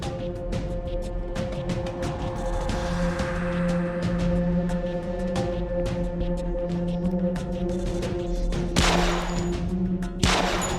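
Gunfire from a weapon in the horror game Whisper Mountain Outbreak, heard as a dense run of sharp repeated shots over a steady droning game soundscape, with a heavier burst of blasts near the end.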